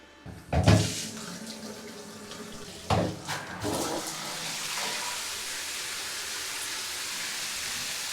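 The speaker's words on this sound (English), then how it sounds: "Seems like a nice strong shower." Water gushes steadily from a rainfall shower head in a Premier Inn in Carlisle after a couple of clunks as it's turned on, settling into a strong continuous spray.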